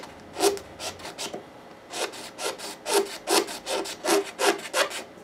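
Close scraping of a wooden bridge plate on a Gibson guitar, a series of short rasping strokes in uneven rhythm, a few at first, then a steadier run after a brief pause, with no talk.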